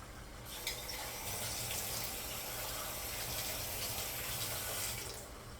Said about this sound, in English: you're gonna get your half a cup of warm water